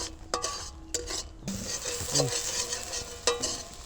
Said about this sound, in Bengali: এখানে মশলাটাকে ভালো করে কষিয়ে নিতে হবে।